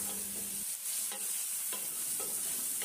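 Spices with grated ginger and turmeric water are stirred and fried for curry leaf chicken, producing a constant hissing sizzle with a few scraping strokes of a spatula and no voices.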